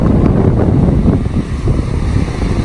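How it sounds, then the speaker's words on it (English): Ocean surf and strong wind on a beach at South Padre Island, Texas, near the Rio Grande mouth, roar loudly and steadily, with wind buffeting the microphone and no talk. "that's the ocean right there"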